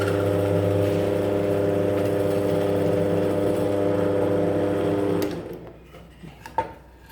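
A Parkside PTBM 500 D4 bench pillar drill runs with a steady motor hum and droning whine, loud for about five seconds, then cuts off, leaving quiet room sound and a single faint knock.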